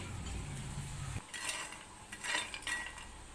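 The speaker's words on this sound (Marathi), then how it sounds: "प्रथम आपण हे शेंगदाणे भाजून घेऊया" Peanuts dry-roast in a pan, a faint low rumble giving way to soft scraping and light rattling as a spoon stirs them, with a few brief clinks against the metal.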